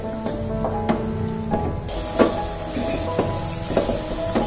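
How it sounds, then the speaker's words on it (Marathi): Onion and tomato sauté in a pan with a steady close sizzle, while a spatula stirs and scrapes in soft irregular strokes. "आता कांदा टोमॅटो व्यवस्थित परतून घ्यायचे आपल्याला"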